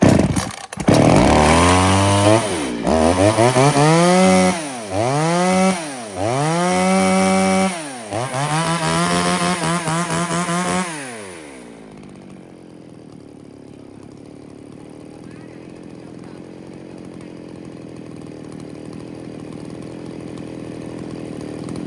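A Japanese-made Shindaiwa 1036s chainsaw with a 36cc engine and 40 mm bore runs close by, revving hard in several rising and falling bursts, then drops to a low, steady idle.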